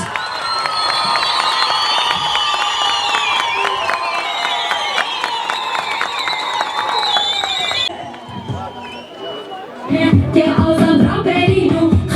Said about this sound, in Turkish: Evet yine güçlü zılgıtlarınız, güçlü alkışlarınız ile Sayın Vekilimiz Garopaylan'ı davet ediyoruz.